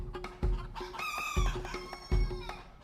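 A Chocolate Orpington bantam pet chicken clucks close up in a run of repeated calls, a few louder throaty clucks and a drawn-out vocal note in between, with soft handling thumps.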